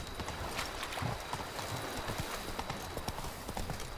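Horse hooves clip-clopping at a steady gallop in The Witcher 3, a dense, fairly close rhythm of hoof strikes running throughout with faint background ambience.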